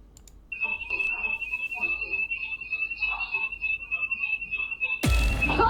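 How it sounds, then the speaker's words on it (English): A steady, piercing alarm tone sounds continuously while people talk over it, then a loud burst of noise cuts in near the end. "Something sets off the alarm."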